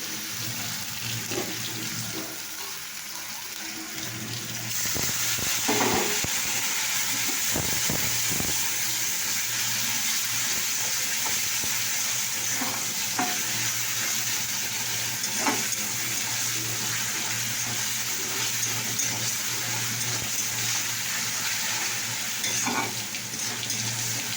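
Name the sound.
onion and spices being sautéed (kosha) in pan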